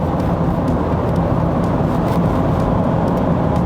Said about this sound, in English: You get a lot of wind noise coming from the edges of these pillars, from the windscreen